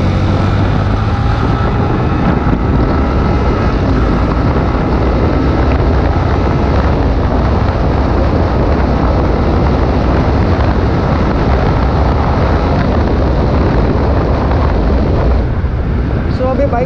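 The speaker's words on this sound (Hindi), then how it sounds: "जब मैं रेव कर रहा था बाइक को अच्छे से" A Yamaha MT-15 BS6 motorcycle accelerates and revs hard, its loud engine drone filling the recording continuously with heavy wind rumble on the microphone and no talking.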